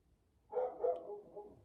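A dog barks once, close and moderately loud, and the sound trails off into a short rough tail against a quiet background.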